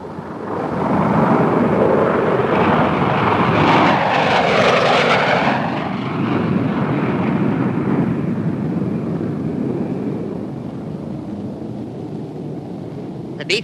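B-49 flying wing bomber with its engines roaring as it passes close overhead, the sound swelling and shifting in pitch, then fading into a distant rumble.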